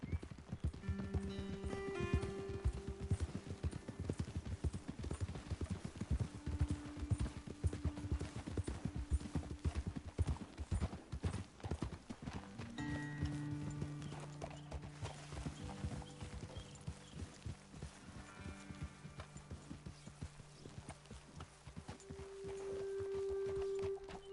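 Steady clip-clop of horse hooves on hard ground in Red Dead Redemption 2, continuous and fairly close, with a faint musical backdrop and occasional louder hoofbeats.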